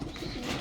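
A racing pigeon gives a soft, low coo while courting in an open breeding box, one brief murmuring call heard close and alone.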